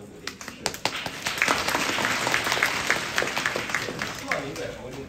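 Audience applause at a Deyunshe crosstalk evening show at the Xinjiekou venue in 2024, steady clapping from a crowd that swells after the first second and holds at moderate loudness, with faint talk underneath.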